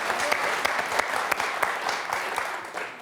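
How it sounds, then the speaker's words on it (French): A studio audience on a French television quiz show applauds steadily throughout, a dense, even clapping at close range with no talk over it. "Ça s'applaudit."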